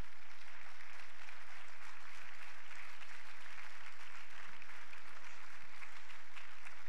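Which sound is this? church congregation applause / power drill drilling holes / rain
church congregation applause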